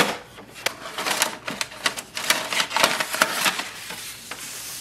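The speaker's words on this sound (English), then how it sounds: "Now open the ink cartridge chamber door." Plastic clicks and clatter from opening the ink cartridge access door on an HP DeskJet 4100 printer, a handful of sharp close taps and snaps over about five seconds with no talking.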